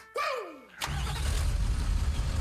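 A Nissan Titan XD truck's Cummins diesel engine cranks over briefly and catches, settling into a loud, rough idle that holds steady close by.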